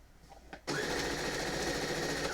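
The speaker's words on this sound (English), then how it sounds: "now let's sew the last two borders on" A sewing machine stitches quilt borders: after a short quiet lead-in with a few faint knocks, the motor starts abruptly and runs at a steady, loud, even hum of rapid stitching to the end.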